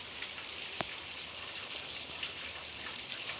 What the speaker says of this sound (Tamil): வீட்டுக்குள்ளேயே மழை பெய்யுதுதான்